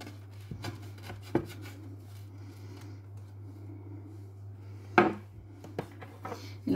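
Knife cutting the end off a Nutella roll on a dish: quiet scraping and sawing, with a few sharp taps against the plate over a steady low hum.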